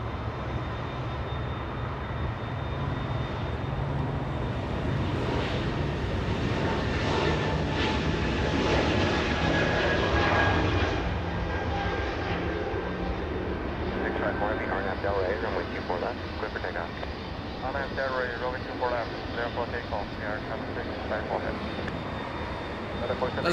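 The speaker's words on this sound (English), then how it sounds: "Lufthansa flying back to Munich. That's a quadjet. That is a very big quadjet." A Lufthansa four-engine quadjet departs Los Angeles International Airport for Munich with a steady rumbling jet roar and a faint whine layered over it, while a voice talks over the noise.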